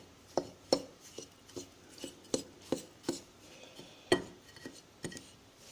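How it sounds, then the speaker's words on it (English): Ground coffee scrub is mixed with sweet almond oil in a bowl, giving a series of irregular scraping clinks and gritty taps, about a dozen distinct strokes, close and moderately quiet with no talking. "And just continue to mix this up"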